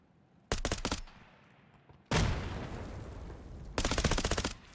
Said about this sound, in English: It's an awkward double stack as Lucas is forced to shoot through his teammate but doesn't get Dave.